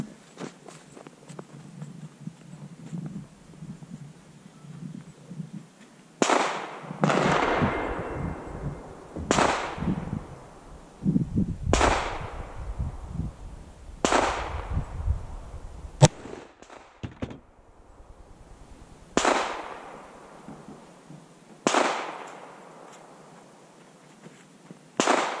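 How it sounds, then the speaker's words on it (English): A 7mm-08 rifle firing 150-grain Swift Scirocco bullets into ballistic gel: about seven sharp, loud shots spaced a few seconds apart, each ringing out with a decaying echo, with quieter shuffling noises between them. "First shot will be low velocity, second shot,"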